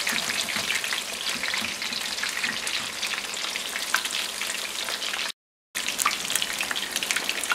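Breaded turkey burgers fry in a pan with a steady, close crackling sizzle that runs throughout, interrupted only by a brief gap of silence before the frying resumes.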